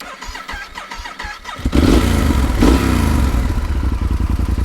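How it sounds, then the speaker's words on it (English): A Yamaha XT 1200 Z Super Tenere fitted with an aftermarket MIF muffler cranks with quick starter clicks, then fires into a loud, close, rumbling idle. "Let me start the engine now."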